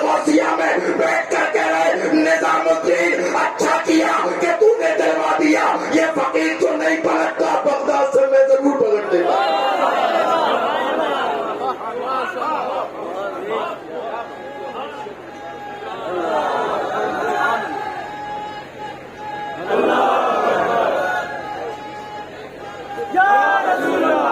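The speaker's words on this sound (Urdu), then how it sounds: "مزہ تب آتا ہے جب نعرے مجمع میں سے لگے" A crowd at a Muharram religious gathering chants slogans in loud, rhythmic bursts, rising and falling in waves over several seconds amid a general hubbub of many voices.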